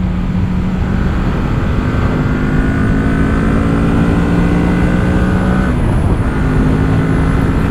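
A Kawasaki Z motorcycle limited to 48 PS rides along under steady throttle, its engine drone holding a loud, close pitch before a shift around the middle changes the tone and the run continues.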